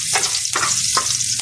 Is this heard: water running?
no